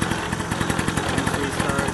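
A Vittorazi paramotor engine running just after a pull start, a steady buzzing two-stroke drone with rapid regular firing pulses, close and loud throughout.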